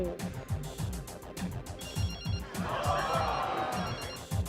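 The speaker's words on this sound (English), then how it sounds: "Your pocket's ringing, Jessie." A phone rings from inside someone's pocket, a muffled repeating electronic tone under nearby voices and soft chuckling.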